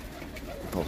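Pigeons coo softly in a loft where eggs are being checked, a low murmuring call that swells slightly near the end of a short moment, with no talk.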